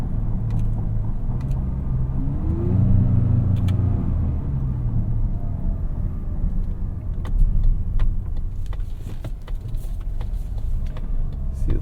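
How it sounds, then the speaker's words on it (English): A 2025 Mazda CX-70 in sport mode holds its engine at high revs, a steady close cabin rumble with a rising tonal sweep early on and occasional sharp clicks, with no talk. "while we're in sport mode, it's going to hold the revs up high"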